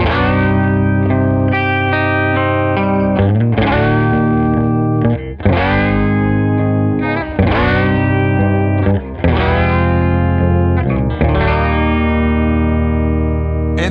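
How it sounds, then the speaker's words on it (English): Distorted, heavily processed tone from a Mirror House voice pitch-shift effect, its pitch sweeping in the opposite direction, a loud sustained stream with repeated swooping changes and no talking. "if I turn voices in the other direction, you're going to hear the pitch move in the opposite way"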